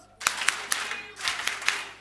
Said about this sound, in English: a Coca-Cola clap goes 1, 2, 3, 1, 2, 3, brrr